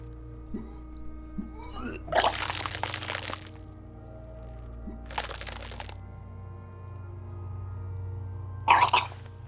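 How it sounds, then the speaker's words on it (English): Vomiting from the video game Disco Elysium comes in three wet, splattering retching bursts, separated by pauses, over a low background hum. "Your body curls and pushes it out, burst by burst, until a pool of vomit lies under your feet"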